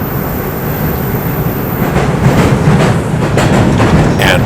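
A TTC subway train in Toronto runs underground between Lawrence West and Sheppard West beneath the Allen Road, giving a steady, loud rumble with rhythmic clatter and a faint high squeal near the end.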